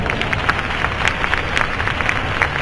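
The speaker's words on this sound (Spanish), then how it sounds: "Un fuerte aplauso para ellos." Audience applause at a beauty industry awards ceremony, a steady bed of many hands clapping with sharper individual claps standing out, loud and continuous for the short stretch.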